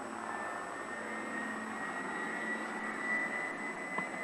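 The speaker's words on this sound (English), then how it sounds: "A beautiful aeroplane, the Grumman Widgeon." A restored Grumman Widgeon amphibious aeroplane drones steadily with a continuous engine hum and a high whine, holding an even, moderately loud level throughout.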